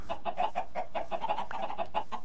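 Chickens in the Minecraft video game cluck in a quick, steady run of short, loud, close calls with no speech over them.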